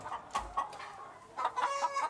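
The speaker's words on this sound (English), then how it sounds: "happy, contented chickens lay top-quality eggs" Hens cluck and murmur in a henhouse, the calls coming in short, uneven bursts with brief quiet gaps between them, close and fairly soft.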